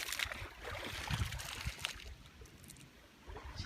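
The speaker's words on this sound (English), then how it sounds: "Just out paddling around Skunk River" Kayak paddling on the Skunk River on a calm day: soft water splashes and trickling drips from paddle strokes, close and fairly quiet, with a gentle irregular rhythm over a light outdoor background.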